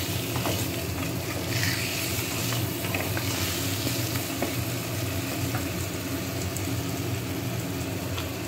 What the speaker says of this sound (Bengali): নুন দিয়ে ভেজে নিচ্ছি